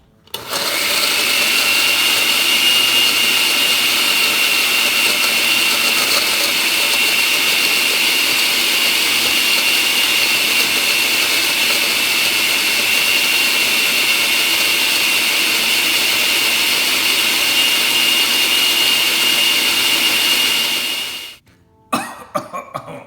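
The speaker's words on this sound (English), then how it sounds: "And now I'm gonna blend it." A blender whirs loudly and evenly for about twenty seconds while pureeing chili sauce, its motor roar holding steady before cutting off abruptly near the end.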